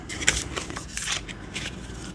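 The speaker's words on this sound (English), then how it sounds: "we're just going to give these a good, quick, and dirty shuffle" Tarot cards shuffled quickly by hand in a quiet room, a run of soft riffling and brushing bursts with a sharper snap near the start, close and fairly quiet with no talking.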